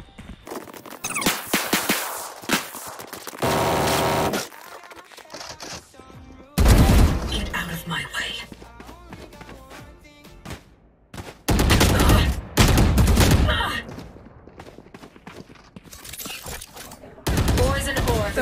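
Gunfire in the tactical shooter Valorant: repeated loud bursts of automatic fire and single shots come in clusters across the round, with footsteps and quieter game sounds in between.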